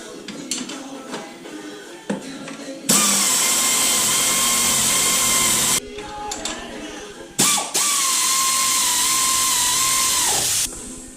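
Power tool bursts tightening bolts on a 2-inch lift kit for a 2019–2023 Can-Am Outlander: two long, steady, whining runs with ratcheting clatter, separated by shorter bursts and brief handling noise, loud and close.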